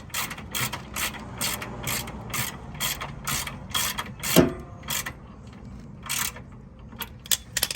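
A ratchet wrench tightens a bolt holding a ground wire under a 2005–2006 Acura RSX, giving a steady run of close, rapid clicking strokes with a brief metallic clunk midway.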